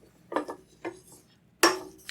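Sautéed vegetables cooked without oil are pushed around a stainless steel pan, making three or four short, close scraping and clattering strokes with brief pauses between them.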